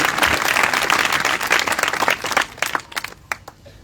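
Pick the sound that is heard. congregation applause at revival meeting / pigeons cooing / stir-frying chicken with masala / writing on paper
congregation applause at revival meeting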